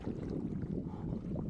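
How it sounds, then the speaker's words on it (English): A jet trident engine hums in water as a steady, low, churning rumble with a watery roar, continuous and close throughout. "Oh, the engine's just humming."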